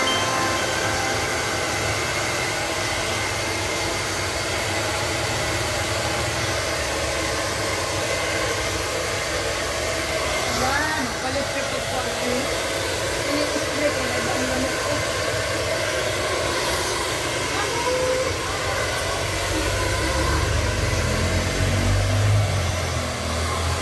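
A hair blower dries hair after a color treatment at a salon, running as a steady, close whooshing drone with a slight tonal whine, shifting a little in level as it moves, continuing without pause.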